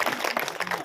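A crowd bursts into clapping at a community health centre and road inauguration event honouring a local MLA; dense, steady applause mixed with a few voices, heard in a brief snatch.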